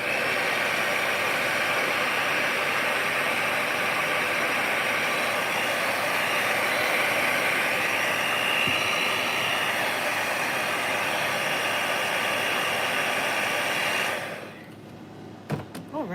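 A hair dryer blows steadily on a watercolor dinosaur painting in a humid room, a loud continuous whooshing roar that runs for about fourteen seconds and then cuts off into near quiet with a few small knocks.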